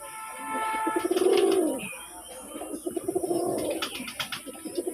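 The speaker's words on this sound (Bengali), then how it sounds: "মানে ডাকের রাজা মানে দেখেন ডাকতেছে তো ডাকতেছে অসাধারণ ডাক" Male pigeon close by giving two long, rolling coos, each a throaty swelling warble, with faint chirps in between and a thin high background hiss.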